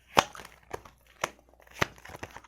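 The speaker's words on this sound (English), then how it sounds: "Shuffling the shit out of these cards." Tarot cards being shuffled hard by hand, giving a run of sharp snapping and riffling bursts at irregular intervals, close and fairly quiet, with no talking.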